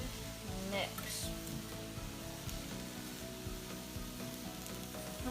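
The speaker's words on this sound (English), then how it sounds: "Once the mushrooms have started to brown, it's time to add in the chard. And give it a good mix." Mushrooms and chard sizzling in a pan while being mixed, a steady close crackle with occasional scraping and clinks from stirring.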